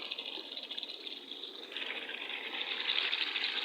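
Water pours into a pot of chicken and spinach curry with tomatoes, a continuous splashing gush that grows louder and fuller in the last two seconds.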